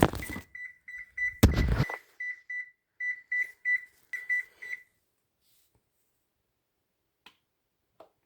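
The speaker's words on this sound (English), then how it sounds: "Set the timer for 50 minutes." An oven timer being set to 50 minutes gives a run of about a dozen short, evenly spaced electronic beeps from close by. A louder clatter comes at the start, and a couple of faint clicks follow after the beeps stop.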